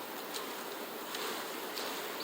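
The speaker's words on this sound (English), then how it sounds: "Now I gotta shake this off, get the bees off of it." Steady, diffuse buzzing of many honey bees around honey-filled hive frames lifted out during a harvest, with faint brief swells as individual bees pass closer.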